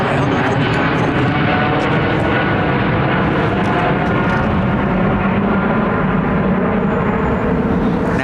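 A jet airliner departing overhead from Heathrow runway 09R, a loud, steady, full-bodied engine roar filling the whole stretch without letting up.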